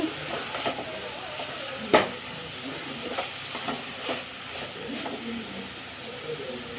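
A ladle stirs a drumstick leaf stir-fry in a pan, scraping and tapping over a soft sizzle, with one sharper knock near the start; close, moderate in level, without speech.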